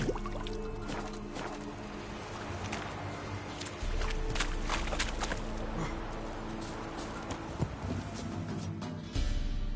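Roach, the horse in The Witcher video game, plods along with a steady clip-clop of hooves and gives a whinny, set against faint ambient game sound and no voices.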